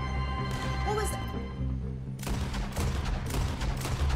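Shots ring out in Red Dead Redemption 2, apparently during a train scene: a quick run of sharp, close gunfire bursts in the last couple of seconds, following steady game sound with a voice speaking.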